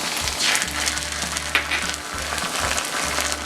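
Chopped capsicum sautéing in a pan for street-style gobi manchurian, sizzling steadily up close, with a low background hum and occasional spatula scrapes and taps.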